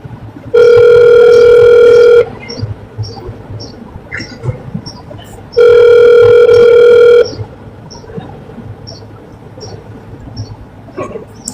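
Two long electronic ringback tones from an outgoing phone call, each lasting under two seconds and spaced a few seconds apart, loud and steady over a quiet background with faint insect chirps.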